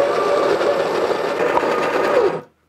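A Baratza Virtuoso Plus coffee grinder runs through coffee beans with a loud, steady motor whir and gritty grinding, holding constant for over two seconds before cutting off abruptly into silence.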